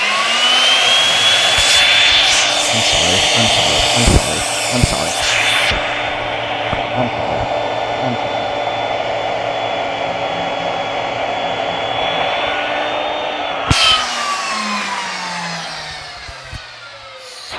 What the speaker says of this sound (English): So I can cut it with the little bandsaw.